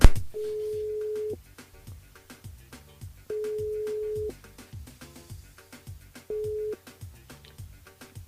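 Repeated outgoing call tone on a radio show as a listener's mobile is dialed live: three steady buzzing ring bursts separated by gaps, the last one shorter, over faint background music with no talk.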